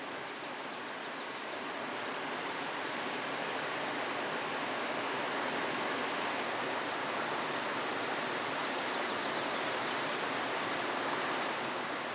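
A mountain waterfall in Juwangsan pours with a steady, dense rushing roar that fills the whole stretch, while a few faint high bird chirps flicker through it.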